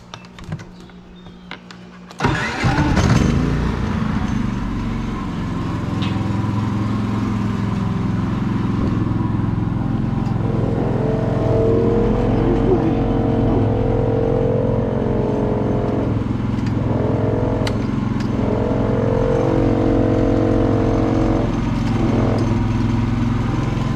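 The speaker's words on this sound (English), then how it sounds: "let me turn the generator on" A generator on a mobile detailing rig starts with a brief cranking burst, then settles into a steady, loud running hum that holds for the rest of the clip.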